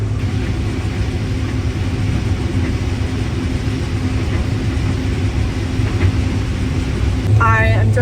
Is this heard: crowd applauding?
no